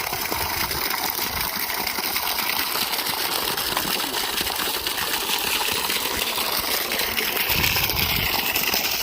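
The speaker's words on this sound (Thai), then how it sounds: "น้ำไหลเต็มท่อครับ" Water from a solar-powered submersible borehole pump, set at 32 metres in a five-inch, 42-metre well, gushes steadily from a full outlet pipe, a continuous near rushing wash with a faint motor hum beneath.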